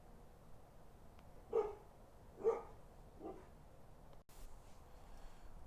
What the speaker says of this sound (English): I don't know if you could hear my dogs are barking in the back